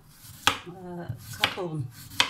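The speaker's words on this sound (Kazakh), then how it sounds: "картошкасын турап қоямыз." Potatoes being cut on a board, three crisp knife chops spaced about a second apart with soft scraping between them, close and fairly loud.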